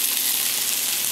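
Steady bright sizzle of garlic paste, potatoes, beans, carrots and cauliflower sautéing in a pan for mixed vegetable curry, a continuous close hiss with no talk.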